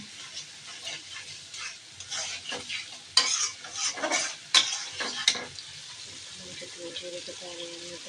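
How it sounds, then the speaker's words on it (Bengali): Meat with spices frying in a pan as it is stirred, a quiet sizzle with irregular scraping strokes, a voice talking over it. "এদিকে মাংস মশলাগুলো বসাচ্ছি"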